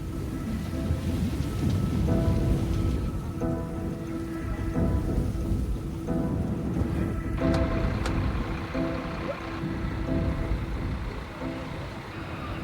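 Steady, heavy rain pours down without a break on a town ravaged by wildfire, with a low rumble of thunder now and then beneath the constant patter.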